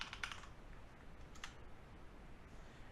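Keys tapped on a computer keyboard in a short burst near the start and another brief flurry midway, close and fairly faint over a steady low hum, with no voices.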